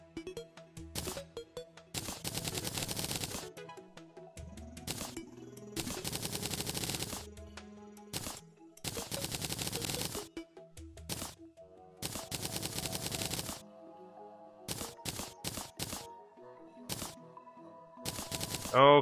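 Rapid gunfire from Terraria, fired in long automatic bursts separated by short gaps, loud and close, with a few quick single shots near the end.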